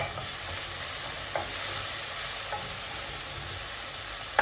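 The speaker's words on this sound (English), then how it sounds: "We'll just saute this till the tomatoes get pulpy." Onions and tomatoes sizzle steadily in a pan while being sautéed for plain pulao, a constant close frying hiss with a few faint stirring clicks and no talking.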